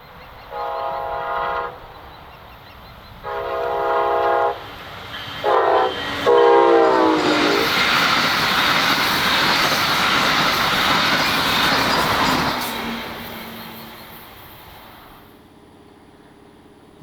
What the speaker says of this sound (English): the train is passing through the CP Bonaventure crossover, northbound.